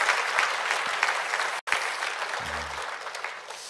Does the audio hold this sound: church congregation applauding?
yes